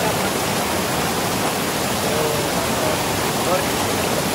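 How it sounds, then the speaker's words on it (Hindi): Ice-cold spring water gushes out steadily at Habba Khatoon Spring in Achoora, Gurez valley, making a loud, close, unbroken rushing roar that fills the whole stretch with no pauses. "देख सकते हो कितना यहाँ से पानी को निकल रहा है और ये ठंडा बहुत"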